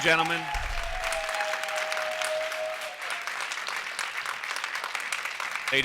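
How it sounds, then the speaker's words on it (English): Applause from the audience at a school board regular meeting fills the room, steady dense clapping throughout, with a voice briefly talking at the start. "please refrain from clapping"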